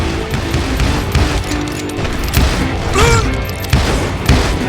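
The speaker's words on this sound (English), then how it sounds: "Appeared with his terrible double-barrel shotgun." Double-barrel shotgun fire in the Call of Juarez: Gunslinger video game: a few booming blasts rise out of a dense, steady din of game sound and music.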